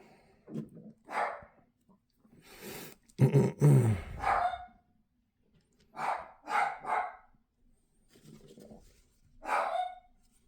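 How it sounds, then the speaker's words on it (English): A dog barks upstairs indoors, with several loud bursts of barking and a few grunts spread across the stretch, separated by quiet gaps. "My dog upstairs going crazy."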